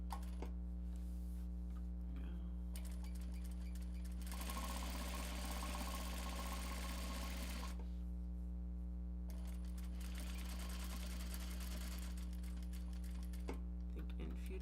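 A sewing machine stitches a Japanese fabric bag with a rapid mechanical chatter in two sustained bursts separated by quieter pauses, over a constant low hum.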